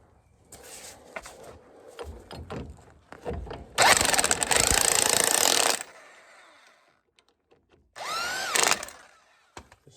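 A power drill snugs the strut mounting bolts on a 2014 Chevrolet Silverado front suspension. Two loud, close whirring bursts come between clanks and tool handling, with a short high whine near the end.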